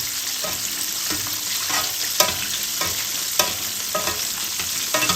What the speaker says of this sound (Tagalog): Papalipaliguan po ninyo ng mantika.